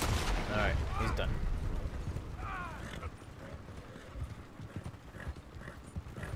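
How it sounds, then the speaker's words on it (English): Rapid clip-clop of horse hooves galloping in Red Dead Redemption 2, loud at first then fading, with an occasional whinny and faint voices in the background. "Hopefully the horses will stop here in a second."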